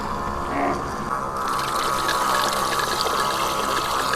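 A LOKITHOR AW401 portable 200 PSI water sprayer pumps water outdoors, a steady close mechanical whir and gushing hiss running continuously, rising slightly in intensity after a brief start-up.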